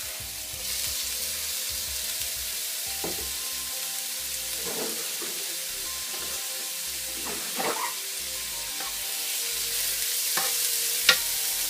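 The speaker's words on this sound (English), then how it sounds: "Toss in our garlic." Garlic sauteing in a pan for a Cajun shrimp and crab bisque, giving a steady, dense sizzle close by, with occasional stirring scrapes and a few brief clinks over the continuous hiss, no voices.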